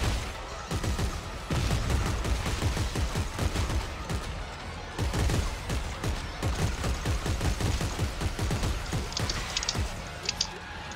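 Sustained gunfire in the video game Dead Space 3, rapid repeated shots in dense bursts with a short pause midway, fairly loud and continuous.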